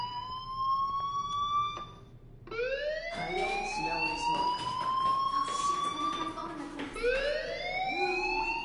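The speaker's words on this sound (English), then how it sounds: "Hey, do you hear that fire alarm?" Fire alarm in the game Life is Strange, a loud electronic siren whose tone sweeps upward again and again in rising wails, running continuously with a short dip near the start.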